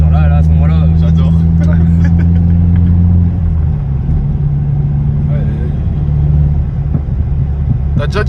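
A Mazda 3 MPS engine and exhaust drone heard from inside the car, a loud steady low hum that drops in pitch partway through as the revs fall, with people talking over it.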